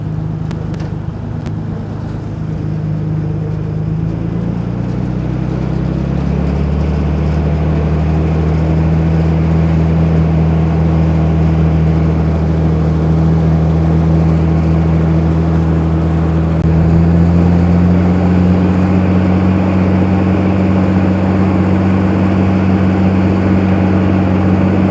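A running third-scale model Advance Rumley steam engine with a belt pulley and clutch, giving a steady low mechanical drone with a rising hum, continuous and fairly loud for the whole stretch, with no talking.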